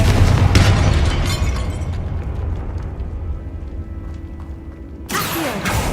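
A Confringo blasting spell explodes in Hogwarts Legacy, a loud deep boom at the start that decays into a low rumble, followed by a second sharp burst near the end.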